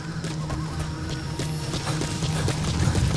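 Horse hooves clip-clop steadily in the Metal Gear Solid V game, a continuous rhythmic trot over a dense layer of ambient game sound.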